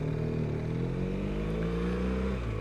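BMW R1200RS motorcycle engine running steadily, a continuous loud, smooth mechanical drone with a low rumbling tone throughout.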